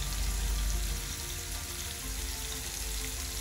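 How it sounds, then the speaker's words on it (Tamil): Potato pieces sizzling and frying steadily in hot oil in a pan for a potato cauliflower gravy, a constant close crackling hiss with no voices. "உருளைக்கிழங்கு நல்லா ஃப்ரையாகட்டும்."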